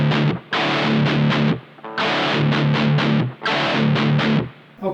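A 2019 Gibson Explorer electric guitar in antique natural finish is played through heavy distortion, loud chugging chord bursts in a repeating rhythm with brief gaps between phrases, alone without talk.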